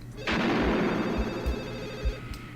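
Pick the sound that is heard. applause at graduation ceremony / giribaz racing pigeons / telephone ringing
telephone ringing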